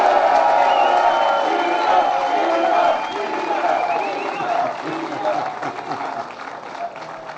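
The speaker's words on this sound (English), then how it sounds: "Give him another round of applause, Peter Ward." Applause and cheering from a crowd at a legislation signing ceremony for union dues, greeting Peter Ward, a steady wash of clapping with whoops that eases slightly after the first few seconds.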